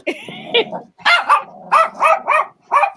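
A dog barks in a series of sharp, close barks with short gaps, along with some whining, while a person talks nearby.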